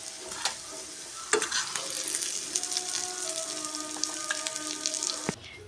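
Paneer fry sizzling in a pan, a steady close crackle and hiss with occasional stirring scrapes and small pops, continuous throughout without voices.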